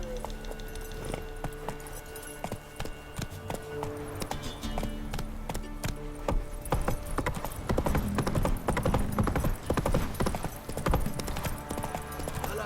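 Hooves of the horse Roach in The Witcher 3 clip-clopping at a steady gait, a continuous rhythmic stream of close thuds that grows busier and louder midway, with a brief whinny-like tone and no talking.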